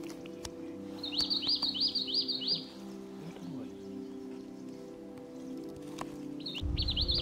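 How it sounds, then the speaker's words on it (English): A rufous-throated rain babbler calls in Neora Valley National Park forest, a quick run of faint repeated high notes followed by a brief second burst, set against a steady low hum of background noise. "we heard a call, and Taraji identified the bird. It was a rufous-throated rain babbler"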